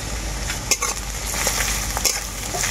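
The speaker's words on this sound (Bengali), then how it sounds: "এই গ্রেট করা কাঁচা লঙ্কাটাকেও অল্প নাড়াচাড়া করে নেব।" Grated green chili being stirred into lightly fried onion in a pan for a bhindi dish, with steady sizzling and a few louder scraping stirs close by, no voices.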